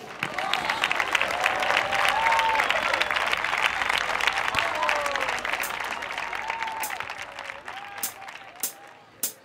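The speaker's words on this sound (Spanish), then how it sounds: "Un aplauso para él." A crowd applauds a performer at a live show in Riba-Roja del Túria, the clapping loud and dense for several seconds, then thinning out as tonal sounds and scattered claps carry on to the end.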